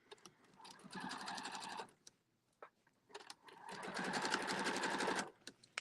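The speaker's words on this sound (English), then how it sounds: "I'm not actually sewing on the thread. I'm sewing over it." Sewing machine stitching over a thread to gather fabric into ruffles, in two short runs of fast, even mechanical chatter separated by a pause with small clicks, fairly quiet and close.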